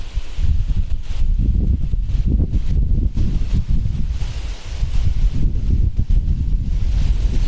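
Strong wind blows across an open rural garden plot in a village, buffeting the microphone with loud, gusty rumbles that rise and fall throughout, with no talking.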